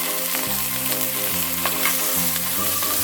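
Masala with tomato, ginger and garlic frying in a pan, a steady loud sizzle with a constant hiss and occasional stirring scrapes, heard up close and alone.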